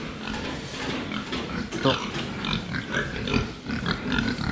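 Pigs on a pig farm grunt and oink in short repeated bursts close by, mixed with background clatter while someone talks over them.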